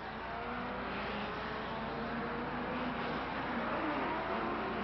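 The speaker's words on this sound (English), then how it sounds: "Musso in his Lancia Ferrari, followed by Schell in the lightweight. Then it's the Vanwall of Brooks, followed by Moss" Racing cars at the 1957 German Grand Prix roar past in a steady, dense engine drone that stays loud and continuous throughout, with a muffled, old-recording quality and no audible talking.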